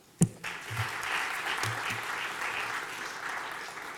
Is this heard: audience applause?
yes